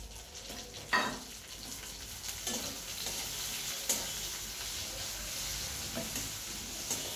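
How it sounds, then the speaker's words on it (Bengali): Onion, tomato, red and green chillies and spices fry in a pan, a constant sizzle punctuated by repeated spatula scrapes and knocks against the pan, close and fairly loud. "বেশ পেঁয়াজের সঙ্গে টমেটো, লাল লঙ্কা, সবুজ লঙ্কা, সব লঙ্কা খুব ভালো করে ভেজে নিচ্ছি"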